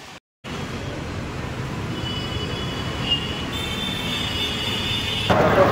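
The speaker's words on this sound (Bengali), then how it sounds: "তো এই হচ্ছে স্টেশন, বিশাখাপত্তনম স্টেশন, 1 নম্বর প্ল্যাটফর্ম।" Railway platform ambience at Visakhapatnam station, with a steady rumble of rail traffic, faint high wheel squeal in the middle, and a brief louder rise near the end; no talking.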